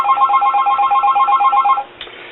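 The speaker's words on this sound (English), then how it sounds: "It's set for what's called a 2-second ring down, so it automatically will only ring for 2 seconds." A field telephone on a US STU-5M signal terminating unit rings loud and close in a rapid warbling burst for about two seconds, cut off by its automatic ring-down timer, followed by quiet.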